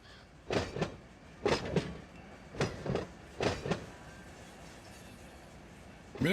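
A freight train in the Run 8 Train Simulator game rolls backwards on an SJVR local switching job, giving repeated rhythmic clanks and thumps of cars and couplers in pairs, fairly close, with quieter rumbling between them.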